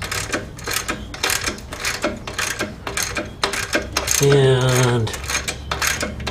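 A ratchet wrench loosens the idler pulley on a Jeep inline six or 2.5L four-cylinder engine, with rapid rhythmic clicking close by and a brief tonal squeal partway through.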